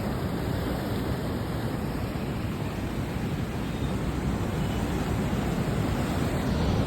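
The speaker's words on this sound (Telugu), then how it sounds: "అలలు చూడండి ఎంత దగ్గర కొడుతున్నాయో." Ocean waves break close to the shore on a beach at Udupi, Karnataka. The roar of surf and rushing water is steady and loud, a dense wash of noise with no voices.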